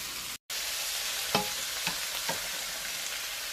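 Red snapper simmering in coconut milk in a covered pot, giving a steady broadband sizzle and bubbling. A few soft clinks or stirring taps sit on top, and no one is talking.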